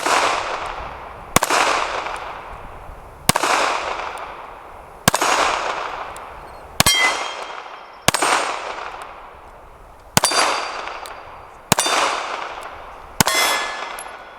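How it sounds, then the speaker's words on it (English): A Ruger Max 9 pistol firing at a steel spinner target: nine sharp shots, each followed by a ringing metallic clang, spaced roughly every one to two seconds, loud and outdoors with no talking. "Let's hit our little spinner down there"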